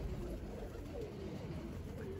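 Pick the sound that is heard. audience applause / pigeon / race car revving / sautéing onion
pigeon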